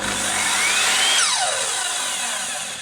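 A sliding mitre saw salvaged as a find runs loud and steady, its high whine spooling up, then falling away as the motor winds down near the end, with no one speaking.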